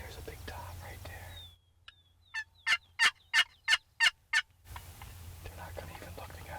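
Wild turkey toms gobbling in spring, a run of about seven loud rapid gobble pulses from fairly nearby, set between stretches of hushed whispered talk.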